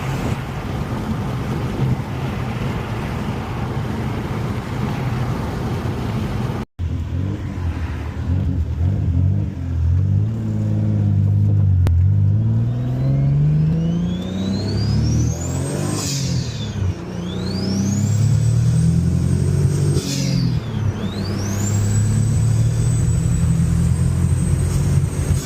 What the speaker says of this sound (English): I got a misfire, I think. Yeah, I got a misfire.